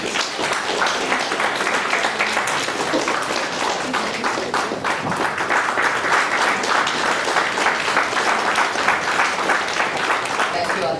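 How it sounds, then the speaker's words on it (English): Seminar audience applauding the speakers, a steady, dense round of clapping that runs continuously without a pause. "Can we have a big round of applause for all the speakers"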